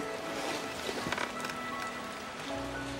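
Steady rain falls throughout as a soft, even hiss of drops pattering on a surface, fairly close and continuous with no voices over it.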